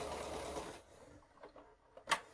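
An older, basic sewing machine stitching a quilt, a short whirring run up close that stops and is followed by a few faint clicks and a sharp tick.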